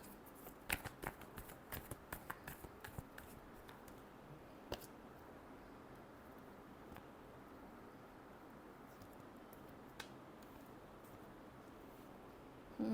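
Tarot cards being shuffled by hand, a quick run of soft papery riffles and taps in the first few seconds, then mostly quiet room tone with an occasional faint click.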